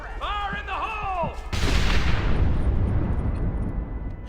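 A loud explosion blasts out in the Western video game Red Dead Redemption, a sudden broadband boom that cuts in partway through and decays into a long rumbling roar after an opening stretch of game voices and tones.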